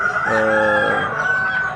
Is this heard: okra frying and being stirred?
no